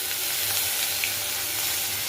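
Dry red chillies, cumin seeds and bay leaf crackle and sizzle steadily in hot oil left from frying aubergine, a dense close hiss with no voices.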